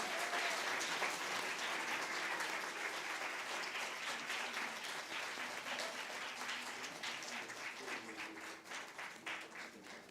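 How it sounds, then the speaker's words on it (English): Audience at a poetry event, The Poetic Heart 2023, clapping for a speaker; a sustained, even round of applause that slowly thins and tapers toward the end, with faint voices murmuring underneath. "Let's give a big round of applause for Miss Silvana"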